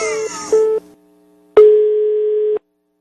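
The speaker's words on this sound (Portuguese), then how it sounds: "Timbu, caiu a ligação" Telephone busy tone after a dropped call: a loud, close electronic tone in steady sustained beeps with a gap between, heard alone.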